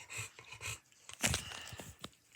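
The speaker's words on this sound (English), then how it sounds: "You little doggy." A small dog pants and snuffles softly up close in short quiet bursts, with one sharper huff partway through.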